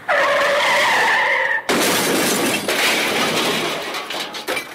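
A car's tires screech in a loud, sustained skid, then a sudden violent crash with crunching metal and shattering glass, followed by debris scattering and settling, all close and without talk.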